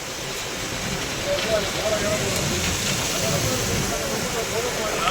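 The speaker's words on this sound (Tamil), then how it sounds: "சரியான மழை காத்தோட" Heavy rain and strong wind from a cyclone at Pamban make a dense, continuous broadband roar that holds steady and loud across the whole stretch.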